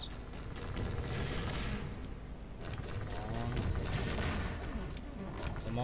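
Gunfire in the shooter game Half-Life 2: a dense, sustained barrage of shots and blasts rolling on continuously for several seconds, loud and busy throughout.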